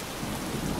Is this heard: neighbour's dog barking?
no